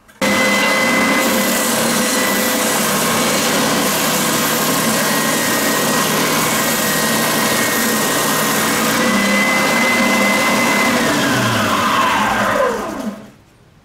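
A Triton oscillating spindle and belt sander runs with no dust extraction, a loud steady whining motor hum lasting about twelve seconds before the pitch drops as it spins down to silence.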